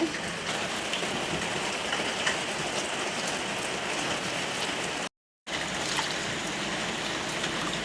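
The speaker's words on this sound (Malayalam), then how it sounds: "മഴയാണോ അയ്യോ മഴ പെയ്തു" Rain falls steadily outside a home kitchen, a close, even patter and hiss that continues throughout, briefly cutting out for a moment near the end.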